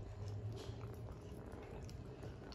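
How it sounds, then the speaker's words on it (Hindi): A pet dog chews and eats a whole banana, giving soft wet munching and squishing sounds close by, steady over a low background hum. "ये हमारा कुत्ता खाना खा रहा है।"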